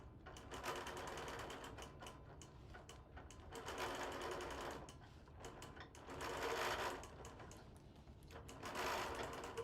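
Sewing machine quilting a quilt, a close, rapid mechanical stitching hum that comes in repeated runs with short pauses between them, with no talk.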